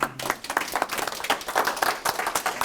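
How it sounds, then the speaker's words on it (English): A brief round of audience applause at an evening book talk, a crowd clapping briskly and fairly loudly, with no talk over it. "So the real round of applause."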